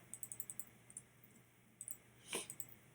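A computer mouse clicks in quick, sharp, close taps, first as a rapid run of clicks, then a few scattered clicks after a pause, over a quiet background hum.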